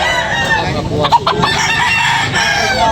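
Several roosters crow over a noisy farmyard at a chicken market, with hens clucking nearby; the calls overlap continuously and fairly loudly.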